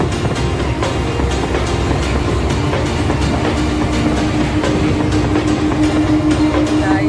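A train rolls steadily along the tracks with a continuous loud rumble and rhythmic clickety-clack, heard from inside the carriage.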